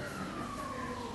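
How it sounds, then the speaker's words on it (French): An ambulance siren wailing in the street in Morocco, a steady sustained tone sliding slowly in pitch, loud and continuous throughout. "c'est une ambulance"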